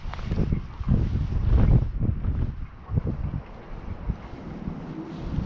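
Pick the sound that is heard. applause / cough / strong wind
strong wind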